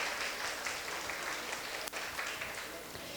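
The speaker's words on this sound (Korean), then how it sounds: "박수 부탁드립니다" Applause from the audience at a Korean literary award ceremony, a soft, diffuse patter of clapping heard from a distance, steady across the moment with one brief dip partway through.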